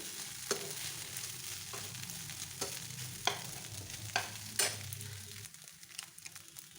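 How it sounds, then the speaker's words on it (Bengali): Poha stirred with fried rice cakes in a pan, faint low sizzling frying under a series of scraping, crinkly spatula strokes spaced about a second apart. "ভালো করে নেড়ে চেড়ে নেব পিঠেগুলো"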